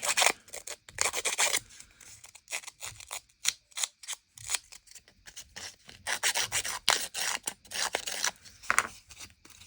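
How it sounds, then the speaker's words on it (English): Paper edges for a junk journal are roughened in quick bursts of close, dry scraping and rasping strokes, irregular and rhythmic with short pauses between them. "first roughen up the edge"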